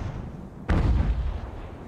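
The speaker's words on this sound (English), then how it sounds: "Close range musket fire." A single heavy close-range musket volley in the naval battle game Ultimate Admiral: Age of Sail, a sudden booming report that breaks out of ambient sea-battle noise and then fades slowly.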